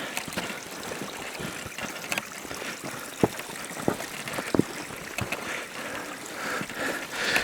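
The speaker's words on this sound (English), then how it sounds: "And there's the creek that you guys can probably hear." A flowing creek on a wooded hollow trail, a steady broadband wash of running water holding throughout at moderate level, with a few brief clicks and footstep-like knocks on top and no talk.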